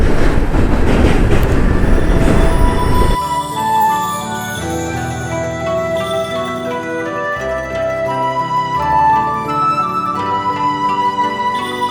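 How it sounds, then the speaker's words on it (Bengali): A train crosses a bridge directly overhead beside tea gardens on the road toward Darjeeling, heard from below: a loud, close rumble that settles into a steady rhythmic clatter of wheels and carriages, with no talking. "ট্রেন ওপর দিয়ে যাচ্ছে, তলা দিয়ে ক্রস করছি আমরা।"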